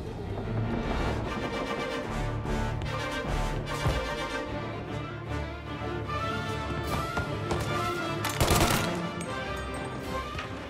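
Gunfire in the video game Mafia Definitive Edition, dense rapid cracks of shots over a busy mix of game sound and music, steady and loud throughout with a sharper burst near the end.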